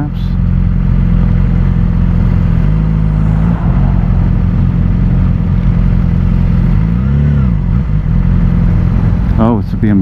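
Motorcycle ridden along a highway with a BMW bike nearby, a loud continuous engine drone with wind rush and a rising pitch sweep near the end, speech heard over it.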